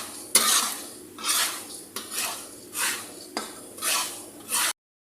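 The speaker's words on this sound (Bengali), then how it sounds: "ভালোভাবে নাড়িয়ে নেব।" Fried vegetables with Indian spices are stirred in a pan, each stroke a loud metallic scrape and clatter of spoon on pan in a steady rhythm of about five sweeps, with a light sizzle between, ending abruptly.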